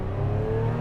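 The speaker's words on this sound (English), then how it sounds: "Rev it up." A Lotus Emira sports car engine revs hard at launch, a loud, steady, close-up engine roar that holds for under a second.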